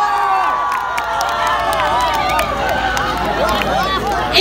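A festival crowd at an outdoor stage concert in Damak, Nepal, cheers and claps to welcome a singer, a loud continuous roar of voices and applause filling the space with shouts rising throughout.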